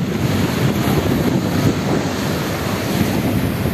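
Ocean waves pounding reefs and rocks at Roque de las Bodegas on Tenerife's Anaga coast, a continuous loud rushing surf roar mixed with wind buffeting the microphone, no voices.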